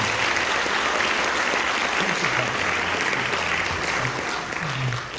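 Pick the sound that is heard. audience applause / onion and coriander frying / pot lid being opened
audience applause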